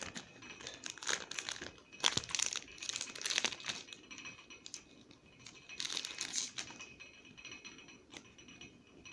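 A Pokémon TCG Ancient Origins booster pack being opened, crinkling and tearing foil in several bursts, close and fairly quiet, separated by brief pauses of rustle.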